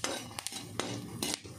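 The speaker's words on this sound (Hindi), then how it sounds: "मैंने इसको कच्ची मूंगफली को भून रही हूँ, और इसको डालकर चलाते रहना है" Raw peanuts being roasted and stirred in a pan, quick metallic scrapes and clinks of the spoon against the pan over a low rumble, close and brief, no voices.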